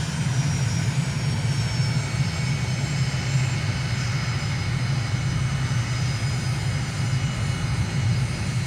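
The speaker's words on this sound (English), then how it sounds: "Just been cleared for takeoff. Done our run-up checks. Just taxi onto the runway." Aircraft taking off in Microsoft Flight Simulator from a runway in Dushanbe, Tajikistan, with a loud, steady, droning engine roar that holds constant throughout and has no voices over it.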